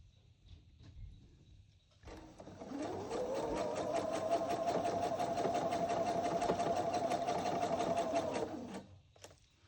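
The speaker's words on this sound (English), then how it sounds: "You're just sewing this ruffle on." A sewing machine stitches a ruffle onto a Valentine pillow. It runs in one steady, close whir for about six seconds, then stops, with quiet room sound before and after.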